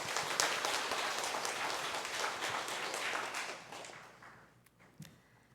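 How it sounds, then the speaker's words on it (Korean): A church congregation gives warm applause after a hymn of praise, clapping loudly and steadily for several seconds before tapering off to a few scattered claps and faint knocks. "하나님께 영광의 박수 올려드리겠습니다"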